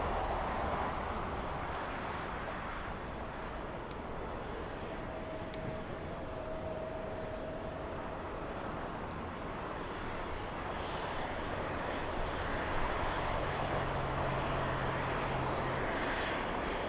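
A Boeing 747 freighter on final approach at Los Angeles International Airport makes a steady, distant jet engine roar that swells slightly toward the end over open outdoor ambience.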